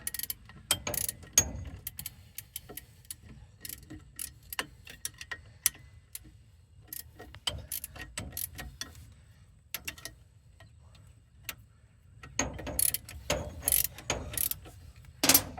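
A hand ratchet tightening the shock absorber bolts on a 2002 Jeep Grand Cherokee Laredo, heard as irregular runs of close clicking with pauses and some clanking from handling tools.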